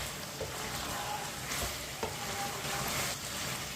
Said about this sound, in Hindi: अच्छी तरह चम्मच चला लेंगे।